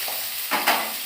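Eggplant and tomato fry in a hot pan, giving a steady, close sizzle with a brief scrape of stirring partway through.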